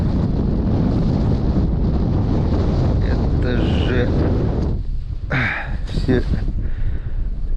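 Strong winter wind buffets the microphone in a loud, continuous low roar on a frozen Pechora River ice-fishing trip, with someone speaking briefly over it near the end.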